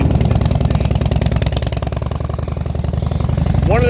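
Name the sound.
V8 motorcycle engine exhaust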